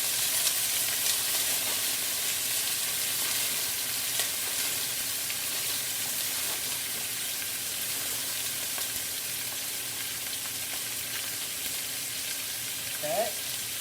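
Beef cheek sears in a hot pan, giving a steady, close sizzle and crackle of frying that runs throughout with little variation.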